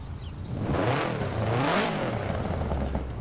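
A Subaru WRX STI engine in Forza Horizon 4 revs hard, rising to a loud roar and then holding a steady, throaty drone, with no talking.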